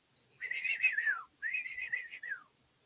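Two sustained whistled phrases, each a wavering tone that slides downward at its end, separated by a short pause and fairly clear against a quiet background.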